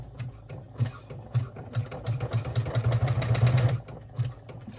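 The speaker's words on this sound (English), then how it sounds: "Normally I would stop and not watch, let you watch the stitching, but just to be safe." An embroidery machine stitching a 3D bag in the hoop, with a rhythmic low thumping needle drive and rattling that speeds up and builds in the middle, then eases off, close and steady.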